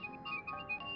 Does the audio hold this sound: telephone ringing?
yes